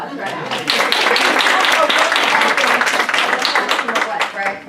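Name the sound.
audience applause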